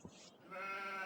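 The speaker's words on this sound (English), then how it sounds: "Oh yes, trusty sheep." Sheep bleating in the farming game Farming Simulator 15, a single drawn-out, wavering bleat rising after a brief click, loud and close with no talk over it.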